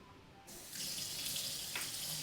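Tap water starts running from a kitchen faucet fed through an under-sink WaterDrop WD-10UA filter, a sudden steady hiss and splash into the sink that swells and then holds.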